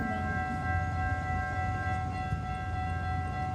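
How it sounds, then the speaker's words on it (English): A rush-hour commuter train, an inbound Metra, passes at Edgebrook with a loud steady rumble and a sustained ringing crossing-bell tone throughout, heard up close and without voices. "here comes another train"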